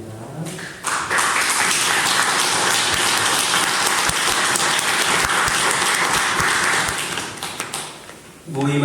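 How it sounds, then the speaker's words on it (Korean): Church congregation at a Sunday worship service claps for several seconds, a loud, dense burst of applause that starts abruptly, holds steady, then tapers off, with a voice briefly heard before and after. "우리에게 박수 쳐주시기 바랍니다."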